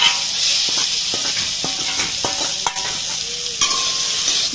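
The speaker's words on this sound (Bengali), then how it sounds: "তেল গরম হয়ে গেছে এবার আমি দিয়ে দেব কুমড়ো পাতা সেদ্ধ করা" Boiled pumpkin leaves frying in hot oil give a steady, close sizzle and hiss, broken by a few soft knocks of stirring and a brief squeak near the end.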